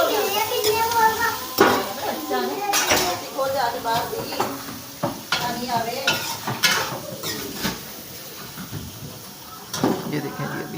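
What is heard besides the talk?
dishes being washed, pots and pans clattering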